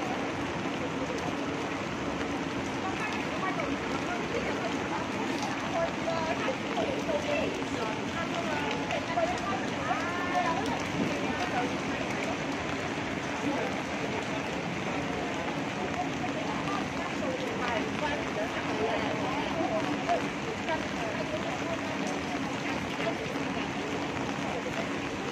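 Rain pours steadily onto a Hong Kong street, a constant, dense hiss of water on pavement and umbrellas that carries on evenly without a break.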